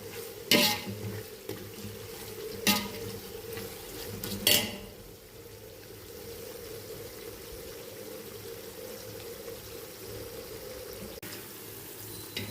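Chicken for biryani frying in a pot, with three sharp spoon scrapes and clanks in the first few seconds over a continuous sizzle, then steady frying alone.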